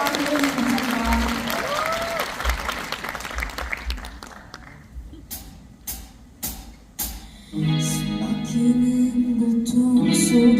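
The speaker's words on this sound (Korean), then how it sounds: "그럼 본 무대 여러분의 뜨거운 박수로 만나보겠습니다" Concert audience at a peace music concert in a hall applauding before a performance, clapping fading over several seconds into a quieter stretch with scattered sounds, then instruments and music begin.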